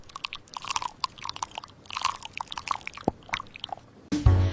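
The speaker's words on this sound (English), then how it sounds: "I am crunching an apple." Close, crisp crunching of an apple being bitten and chewed, repeated crackly bursts, then a short louder thump at the end.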